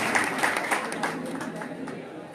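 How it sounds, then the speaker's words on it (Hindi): A crowd at a BSP political rally in Madhya Pradesh applauds to welcome candidates on stage, a broad continuous patter of clapping with some crowd murmur, fairly loud and steady before slowly easing off. "जोरदार तालियां बजाकर स्वागत बंधन अभिनंदन किया है"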